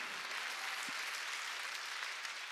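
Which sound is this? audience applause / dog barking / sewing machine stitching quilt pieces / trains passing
audience applause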